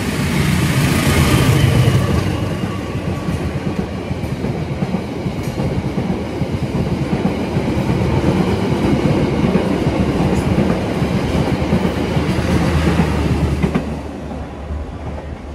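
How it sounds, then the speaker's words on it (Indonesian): Blambangan Express passenger train passing close by, a loud sustained roar of wheels and carriages with steady clickety-clack rhythm throughout, easing slightly near the end; no talk. "Ini Blambangan Express lewat teman-teman"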